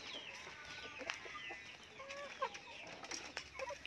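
Chickens clucking softly in a farm coop or yard, with several short calls scattered over a quiet, steady background hiss.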